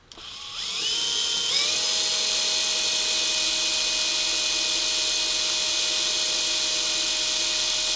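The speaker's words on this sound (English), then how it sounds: "it should never take that long to drill through 8 millimeters of Delrin" A power drill whines steadily and loudly at a high pitch, grinding continuously for several seconds after spinning up, boring through 8 millimeters of Delrin plastic.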